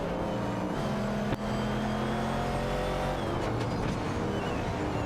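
Engines of a 1970 Chevrolet Camaro and a Holden Torana A9X drone steadily in a racing video game, layered tonal whines shifting in pitch as the cars duel, with a brief thump partway through.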